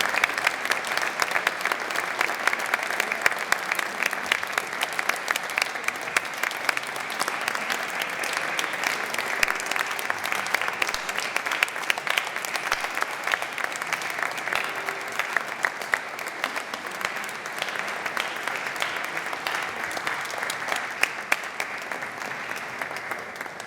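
A large concert audience in Jesolo applauds a choir after a Christmas nativity concert, steady dense clapping that stays loud and even throughout.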